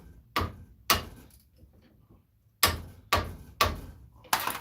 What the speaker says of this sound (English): I like to take the hammer and tap it in the inside